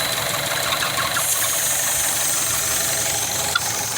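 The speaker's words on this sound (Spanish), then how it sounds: "esta es la falla que hace que tu motor tiemble" A 2012 Chevy Cruze engine idles roughly, misfiring because of a faulty PCV valve. It gives a steady, close mechanical drone with an uneven shake running through it and no talk.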